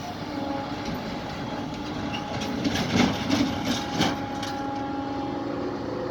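A train heading toward Khagraghat station rumbles past on the Berhampore bypass. The steady low roar swells in the middle with a few clacks as the wagons go by, and no one speaks.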